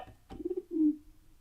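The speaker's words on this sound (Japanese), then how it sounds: "これはフクロウですね。" An owl call effect played on an electronic keyboard gives a short, clear, low hooting call in two soft notes, heard alone.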